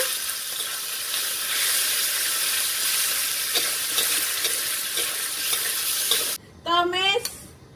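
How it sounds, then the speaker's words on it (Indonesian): Cucumber stir-fried in a pan, a steady close sizzle with stirring scrapes throughout, then a short pause before a voice briefly speaks over the frying near the end. "Kita oseng-oseng ini ya, kita tumis karena dagingnya satu dulu."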